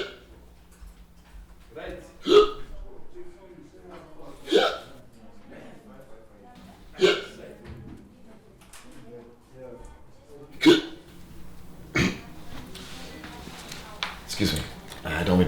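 A man's recurring hiccups, a string of about seven sharp, abrupt gulps spaced a couple of seconds apart, with quiet breathing and small vocal sounds between them.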